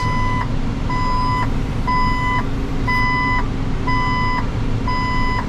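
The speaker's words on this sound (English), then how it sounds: "Turn the reverse beeper off." A farm crop sprayer's reverse alarm beeps steadily, about one tone per second in a regular run of six, loud and close over a constant engine rumble, with no talk.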